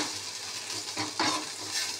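Radish greens fry in a pan with a continuous close sizzle and a few scraping stirs, including one louder scrape midway, with no talking.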